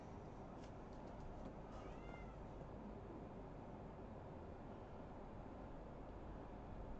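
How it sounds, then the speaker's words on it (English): A kitten wanting to come in meows faintly a couple of times, brief rising cries far off beneath a loud steady rushing noise, with no talk. "My kitten is like wanting to come in."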